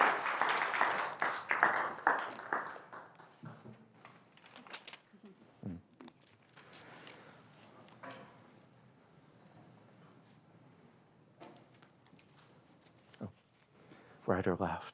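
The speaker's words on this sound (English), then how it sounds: "We'll give Andre a big round of applause right now while we get set up." An audience claps for a storyteller at a talk on Indigenous storytelling and oral history, a burst of applause that fades within a few seconds, followed by quiet shuffling, setup noises and scattered talk.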